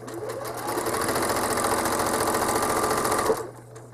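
A home sewing machine stitches a Bowl of Cherries quilt a quarter inch from a seam, running in a fast, steady, close mechanical whir for about three seconds before stopping.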